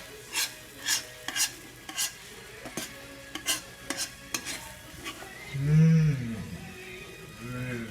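A run of short clatters and scrapes of a spatula against a frying pan while cooking oyakodon, irregular and close, followed by a brief louder sizzling swell.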